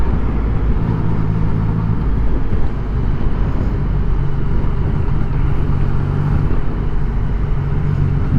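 Steady road traffic with a car, a Subaru, passing close by, a continuous loud engine and tyre drone holding throughout while a motorcycle filters toward the front of the queue.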